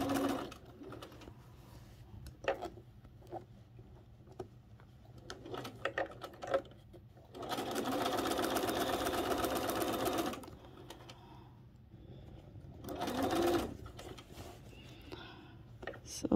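A sewing machine stitches a quarter-inch seam around the outer curve of a pinned wedding ring quilt, running in one steady burst of several seconds and a shorter later one, with quiet handling noises between.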